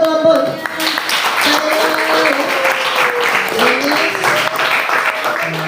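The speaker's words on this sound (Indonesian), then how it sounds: "Tepuk tangan buat kelompok." A ninth-grade school class applauds a student group after their science presentation, a dense, steady round of clapping from many people filling the room, with voices chattering beneath it.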